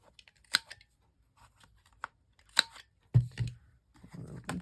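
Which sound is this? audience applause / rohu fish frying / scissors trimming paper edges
scissors trimming paper edges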